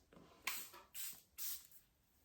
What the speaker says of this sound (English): I apply my setting spray right over all of my cream product